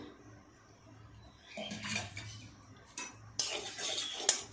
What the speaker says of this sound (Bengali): আর একটু উল্টে পাল্টে ভেজে নেব।